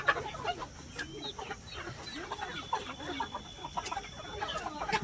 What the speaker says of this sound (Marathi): तर गाईज आपल्या कोंबड्याला आज घाट बांधलाय.